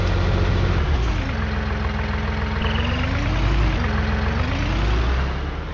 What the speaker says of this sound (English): do you like my tractor?